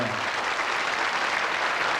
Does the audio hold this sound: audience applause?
yes